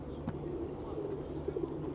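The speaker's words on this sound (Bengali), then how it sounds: "আর প্রচুর পায়রা।" A flock of pigeons coos steadily in a snowy winter park beside Ascension Cathedral in Almaty, a low murmuring chorus running throughout at moderate level.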